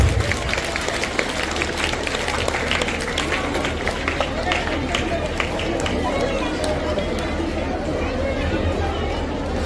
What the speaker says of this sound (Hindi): जोरदार तालियां आप लोगों की